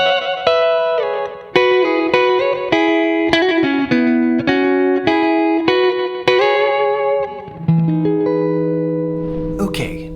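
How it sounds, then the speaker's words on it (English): An electric guitar plays a flowing R&B neo-soul lead lick built on stacked major pentatonic shapes, with clear sustained plucked notes in a steady run and a soft effected tail, loud and close with no talking. "I can create these really cool, beautiful R&B kind of neo-soul sounding licks."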